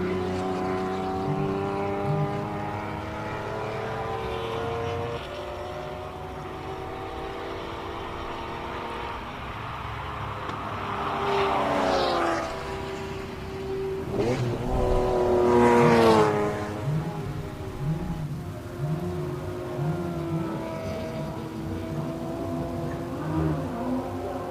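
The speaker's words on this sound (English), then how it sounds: "we're going to shut up and just listen to the Ferrari" Classic Ferrari racing at the Simola Hillclimb, its engine note climbing through the gears with a loud, close pass around the middle before fading into the distance.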